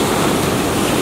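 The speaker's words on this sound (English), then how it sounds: "listen to the waves" Ocean waves wash onto a beach in a steady, loud, broadband rush, with no voices.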